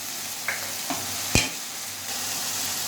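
Vegetables sizzle in a hot pan as soy sauce goes in, a few sharp clatters and one loud scrape against a steady frying hiss.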